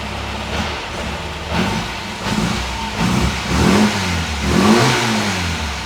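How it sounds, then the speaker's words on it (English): An old Ford's engine revs with the choke partly pulled, a mid-pitched motor rising and falling in several surges that grow louder toward the end, with no talking. "A little bit of a rev, let's put the choke in slightly."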